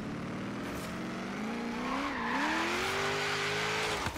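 A car in Forza Horizon 3 drifting with its tires blown loose, engine droning and rising in pitch under continuous tire squeal, loud and close.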